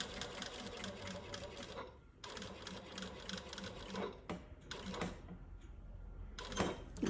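A sewing machine topstitches a placket, running in steady rapid stitching bursts broken by short pauses where the fabric is repositioned, close and fairly quiet.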